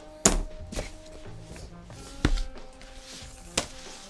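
A DJI OSMO Mobile 4 box opened during an unboxing, with several hollow cardboard thunks and knocks spaced apart, plus light handling rustle and a faint steady hum, close and fairly loud with no speech.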